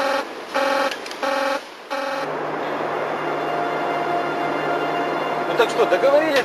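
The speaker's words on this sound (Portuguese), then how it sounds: "Mais um alarme." Control room alarm at the Chernobyl nuclear plant: a loud pulsing electronic buzzer sounds in three or four repeated bursts, then stops, leaving a steady low hum and murmuring voices in the room.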